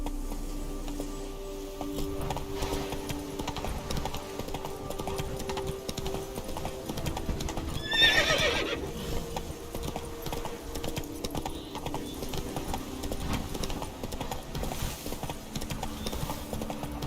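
Hoofbeats of the horse Roach galloping in The Witcher 3 video game, a steady rapid clip-clop running throughout alongside game background sound.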